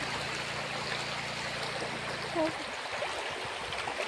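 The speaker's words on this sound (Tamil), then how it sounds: "எல்லாம் பாருங்கள் தண்ணி நிறைய போகுது" Water running strongly along a village path, a steady broad rushing wash that fills the clip, with a low hum in the first half and a brief faint voice near the middle.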